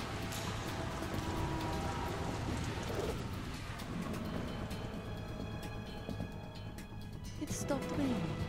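Rain in the Metal Gear Solid 2 tanker level, a faint, continuous hiss of rainfall with low rumbling underneath, heard quietly in the background throughout.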